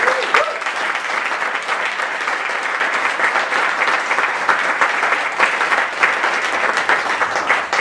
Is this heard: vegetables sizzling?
no